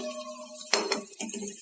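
Fried ginger pieces tipped from a pan onto a plate after the stove is switched off, giving a short burst of clinks and scraping knocks of cookware against dishware, then a few lighter taps, close and clear with no talk.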